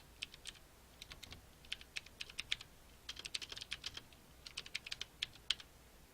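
Light, quick keystrokes on a computer keyboard come in short irregular bursts, close and faint in a quiet room.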